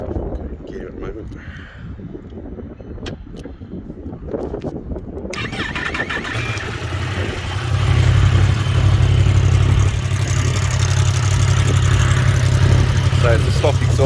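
Yamaha R6 motorcycle with stock exhaust and about 8,100 miles cranks over and fires up, settling into a steady, loud idle after a quieter stretch of clicks and handling noise.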